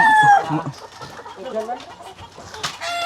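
Chickens cluck and squawk close by, with a brief crowing call at the start and people talking among the birds.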